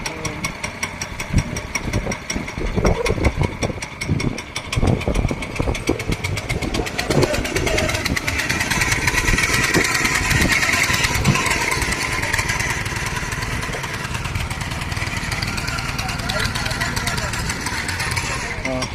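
A 7 hp chain cultivator runs close by with a loud, throbbing engine note that fluctuates and steadies as it shifts into reverse, while people talk over it.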